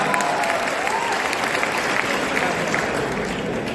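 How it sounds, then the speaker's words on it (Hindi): Loud, steady applause from a seminar audience in Darbhanga, dense clapping sustained throughout without a break. "उसने जोरदार ताली बजा दो एक बार।"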